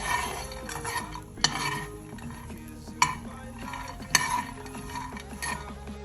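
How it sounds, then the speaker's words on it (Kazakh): Salted peanuts roasting over low heat in a pan, stirred with a rattling, scraping rhythm and a few sharp metallic clinks of utensil on pan, close and fairly quiet. "оны баяу отта осылай"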